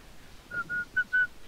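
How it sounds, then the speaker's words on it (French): Someone whistling into a microphone during a Rocket League livestream, four short clear tonal notes in a quick rising-and-falling sequence, fairly close, with faint breathy background noise. "Ah, de siffler, mec, ça fait juste un courant d'air dans le micro"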